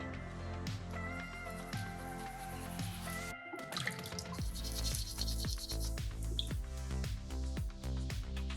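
A soapstone shark carving is rinsed under running water, with steady splashing and dripping close by over a musical backdrop.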